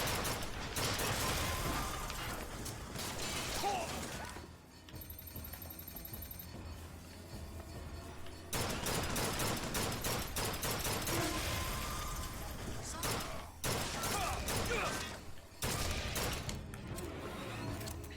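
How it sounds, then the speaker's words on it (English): Rocket turret firing in the video game Bioshock Infinite, a dense, loud barrage of blasts and mechanical clatter with a brief lull midway before the fire resumes. "Someone shooting rockets at me? Ah yes, the turret."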